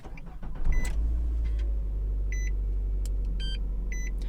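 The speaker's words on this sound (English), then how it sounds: "Insert the working key and start the car." A Nissan Armada engine turns over and settles into a steady low idle, with a few faint electronic beeps chiming above the rumble.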